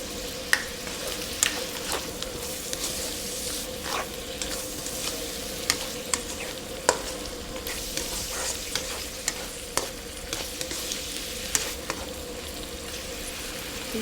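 Spicy pork belly stir-fries in a pan with sugar added, a steady sizzle and hiss running throughout while a utensil scrapes and taps the pan in irregular strokes, close and fairly quiet.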